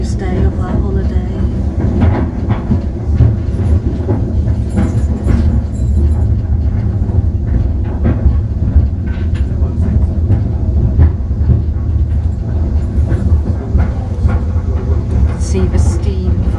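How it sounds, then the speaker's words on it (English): Steady rumbling of a steam train in motion from Alston to Lindley, Cumbria, with rhythmic clatter from the rails, continuous throughout, with occasional faint voices in the background. "we are on the train from Alston to Lindley."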